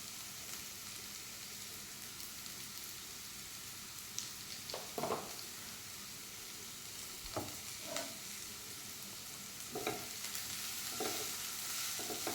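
Cabbage and capsicum sautéing in a pan for a veg gatti roll, a steady sizzle with occasional stirring scrapes and clinks of a spoon against the pan.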